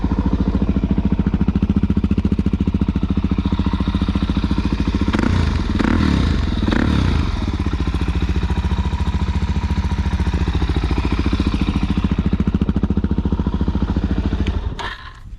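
A carbureted Suzuki DRZ400SM dual-sport motorcycle with aftermarket exhaust idling close by, a loud steady thumping single-cylinder pulse with a brief blip of throttle partway through before it cuts off at the end.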